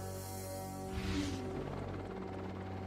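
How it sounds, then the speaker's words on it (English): Russian Air Force helicopters flying over central Kazakhstan during a space capsule recovery give a steady droning rotor and engine hum, with a brief louder swell partway through, no talking. "Russian Air Force helicopters fan out across central Kazakhstan"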